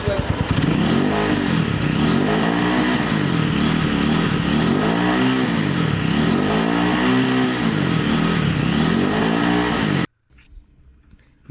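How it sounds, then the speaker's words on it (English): A loud single-cylinder Xingling motorcycle exhaust revs up and down repeatedly in rising and falling surges, close by, then cuts off suddenly. "here's a sound clip of the exhaust note of the bike"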